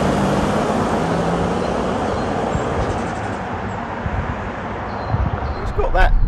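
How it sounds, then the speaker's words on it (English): A 2005 Jeep Grand Cherokee WK CRD with a Mercedes diesel engine drones with a steady, dense rumble, heard from inside the older four-wheel drive as it runs without a break. "typical sort of powerful diesel Mercedes sound, similar to what you'd get on a Sprinter or anything like that"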